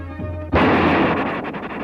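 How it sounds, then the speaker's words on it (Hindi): A loud, sudden blast from an arsenal set on fire, breaking out after a low rumble and rolling on as a dense, sustained roar that slowly breaks up. It belongs to a retelling of the 1857 Indian Rebellion in Delhi. "इससे इतना भयानक विस्फोट हुआ"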